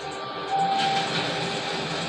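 Train in a train robbery video game, a steady mechanical rattling rumble with a faint high whistle-like tone, heard alone at moderate level for a couple of seconds.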